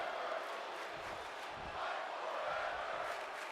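A wrestling crowd at an indoor show cheers and roars continuously, a dense, steady wall of voices with slight swells.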